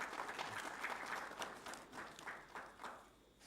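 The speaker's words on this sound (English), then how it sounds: "So a big round of applause for him as well." A press conference audience for the Economic Survey 2021-22 gives faint, soft applause that continues steadily with a slightly uneven rhythm for a few seconds, with no voices over it.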